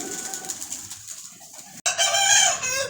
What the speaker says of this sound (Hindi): मुर्गा जी चुप नहीं करेगा